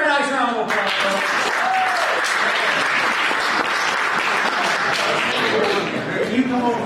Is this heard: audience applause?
yes